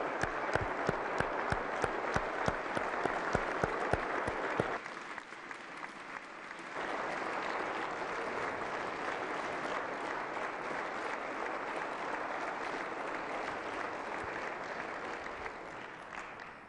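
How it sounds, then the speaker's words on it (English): A state address audience gives a long, loud round of applause in a large hall, with sharp individual claps at first and then a dense, sustained wash of clapping that continues steadily. "please give him the greatest round of applause."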